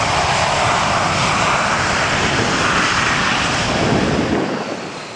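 An American Eagle regional airliner roars at the LAX runway, its engines a loud, steady, broadband rumble that holds for several seconds and then begins to fade.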